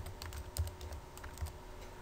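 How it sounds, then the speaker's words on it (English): Quiet, steady clicking of keys as a command is typed on a computer keyboard, with no one talking. "And we type enable"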